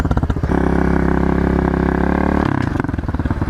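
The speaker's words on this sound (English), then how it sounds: "Oh, that really pushed the engine there, and I don't think it's revved that hard in ages." A pit bike motorcycle engine revving hard, close and loud: a chugging idle rises into a sustained high rev for about two seconds, then drops back to a lumpy idle.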